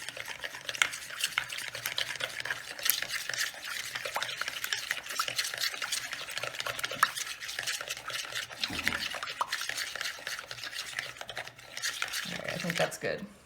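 Glue and water being stirred together in a cup, a steady scraping and clinking swirl that runs continuously up close for the whole stretch, with faint talk in the background.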